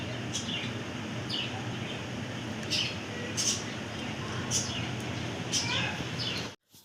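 Several pet birds kept indoors at home chirp in short, repeated bursts over a steady, fairly loud background hiss, with a sudden cutoff near the end.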